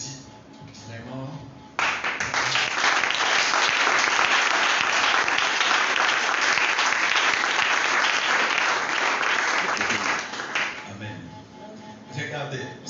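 A church congregation bursts into loud, sustained applause and acclamations. Brief quieter murmuring comes before the clapping starts and after it fades, and the dense applause holds for about nine seconds.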